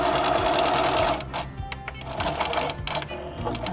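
A sewing machine runs steadily while stitching a summer project in fabric, then stops briefly and restarts for shorter bursts of backstitching to secure the seam, loud and close.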